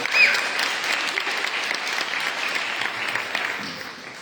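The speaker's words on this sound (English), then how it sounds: "If you are gopis, you have to clap for Radharani." A retreat audience breaks into sustained applause for Radharani, many hands clapping in a dense, even roar that holds steady, with faint voices under it.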